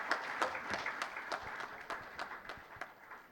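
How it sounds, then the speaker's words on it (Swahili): Audience applause at the Blue Economy Forum in Zanzibar, a faint, distant spatter of clapping with irregular sharper claps standing out, steady throughout. "Makofi tafadhali, makofi tena mazito"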